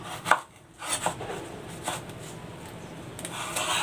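A knife slices into unripe saba bananas on a cutting board, giving a few soft, sharp cuts and thuds up close against quiet kitchen background.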